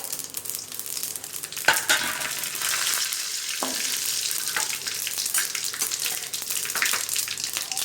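Mustard seeds, fennel and bay leaves crackling in hot oil for a chickpea curry, a dense steady sizzle with scattered pops and a few spoon scrapes, close and even throughout, with no voices.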